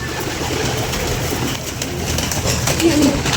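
Pigeons cooing nearby, soft low calls rising near the end against a dense background of ambient noise.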